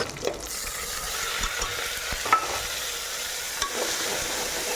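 Ground onion paste frying in plenty of oil for kovakka thokku, giving a loud, continuous sizzle with scattered spoon scrapes and a few sharper knocks against the pan, close by and without talking.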